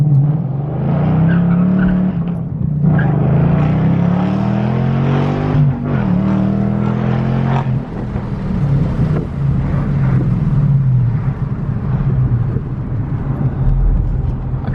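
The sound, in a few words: S197 Ford Mustang launching with tire squeal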